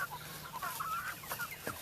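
Chickens clucking softly in a farmyard, scratching through compost, several short clucks and murmurs overlapping at a moderate distance with quiet ambient noise.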